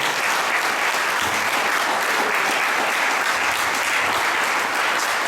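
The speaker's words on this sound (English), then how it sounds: "give both of them a round of applause" An audience at an evening candidates' forum for a city council district applauds steadily and loudly, a dense wash of clapping that carries evenly through the whole stretch without a break.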